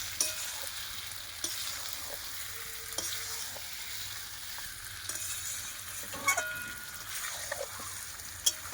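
Meat stirred while frying in a pan for a Bengali meat curry, a continuous close sizzle with intermittent scraping of the spatula against the pan, no voices.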